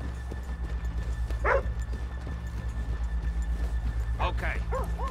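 Steady rhythmic hoof clops from horses in Red Dead Redemption 2 plod along at an even pace, with a couple of brief animal calls cutting in over a droning background.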